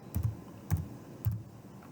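Three short keystrokes on a computer keyboard while a case citation is typed, each a soft close tap spaced about half a second apart, faint and alone with no speech.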